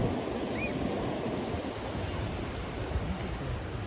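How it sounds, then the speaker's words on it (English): Ocean surf rolls onto a beach in the morning, a faint, steady wash of waves with a soft wind-like hiss throughout and no talking. "Spending a little bit of time at the beach this morning."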